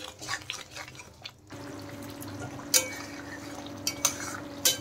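Spice masala being sautéed and stirred in a pan, quiet scraping and soft sizzle with a few sharp utensil clinks against the metal.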